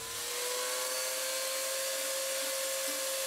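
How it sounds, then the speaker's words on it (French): A chainsaw carving texture into a wooden sculpture, a steady high-pitched engine whine holding constant at moderate distance, with no talking. "je vais toute la faire à la scie mécanique"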